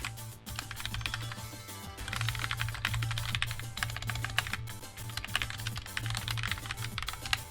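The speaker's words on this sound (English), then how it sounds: "So you'll hear some keys." Computer keyboard typing during a livestreamed match, continuous rapid clattering keystrokes near the microphone, quiet and steady with no speech.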